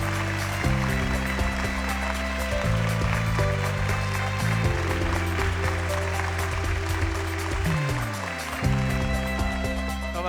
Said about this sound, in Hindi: आपकी तालियों की गूंज में